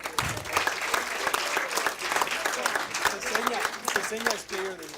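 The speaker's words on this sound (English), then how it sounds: "let's give him another big round of applause" An audience at a school district board meeting applauds student athletes, with sharp individual claps in a steady crowd of hands and people talking and calling out over the clapping.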